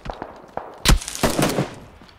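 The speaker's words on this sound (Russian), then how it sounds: "Стреляют по нам, да, слышь?" Gunfire in PUBG on the Karakin map, a quick scatter of sharp cracks leading into a louder, dense burst of close shots that fades out over about two seconds.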